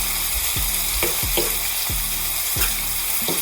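Onions sizzle steadily in a hot pan after a splash of water, a constant frying hiss broken by several scraping stirs from a utensil, close and clear with no talking.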